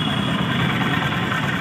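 Honda SP 125 BS6 motorcycle engine idling just after starting, a steady, quiet, close low hum with no talk over it.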